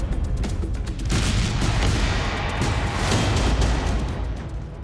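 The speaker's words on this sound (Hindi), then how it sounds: "काखोव्का में जोरदार धमाका" A loud, booming explosion in Kakhovka, Ukraine, with a rumbling low roar that swells and lingers, accompanied by sharp crackling bursts throughout.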